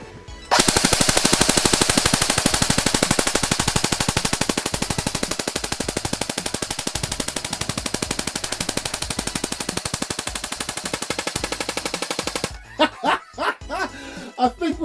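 A JG G608 G36 airsoft gun empties a full magazine in one long, continuous burst of rapid, even clicking shots that runs close and loud for about twelve seconds, then stops and a few short sounds follow.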